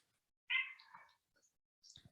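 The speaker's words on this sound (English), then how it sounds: "And my cat's chiming in too as well." A house cat gives one clear, drawn-out meow close by in a quiet room, followed by a softer, shorter call.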